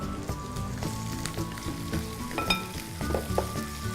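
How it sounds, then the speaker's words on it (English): Ginger sizzles steadily in hot oil in a pan, a dense crackling hiss broken by faint scrapes and clinks of a utensil through four seconds. "Just let this cook for a minute or two and let the ginger infuse its flavor into the oil"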